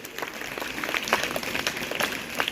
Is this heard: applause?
yes